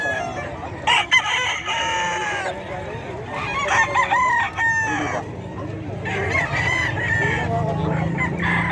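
Gilmore gamefowl roosters at the Bocaue chicken market crow and cluck close by, several overlapping calls through a noisy, crowded market background.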